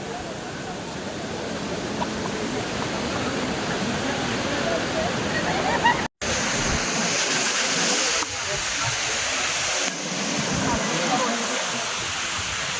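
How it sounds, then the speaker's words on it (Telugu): Sariyu waterfall pouring steadily, a loud broadband rush of falling water that holds constant throughout, with a brief dropout midway. "మన సరియు వాటర్ ఫాల్స్."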